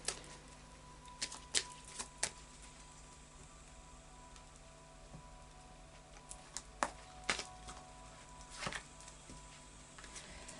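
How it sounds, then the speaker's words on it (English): Moonology oracle cards being shuffled by hand, soft papery riffles and taps arriving in scattered bursts, some close and crisp and others faint, against a quiet room with no talking. "So I'll just do a final shuffle of the Moonology cards."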